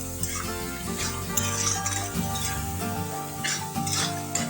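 Salted taro stalk mixture stirred in a frying pan, a dense steady sizzle with scraping and clattering of the utensil against the pan, close and continuous with no pauses.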